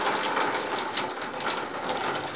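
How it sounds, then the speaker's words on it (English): Water pouring and trickling out of an unscrewed Culligan water filter housing, a steady splashing stream with faint clicks from the plastic housing, close by and with no talking. "And water will start to pour out like that."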